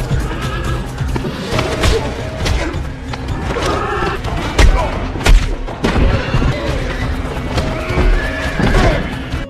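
Several horses in a stable neigh and whinny with hoof clip-clop during a movie fight scene, mixed with loud booms and gunfire-like bangs; no speech.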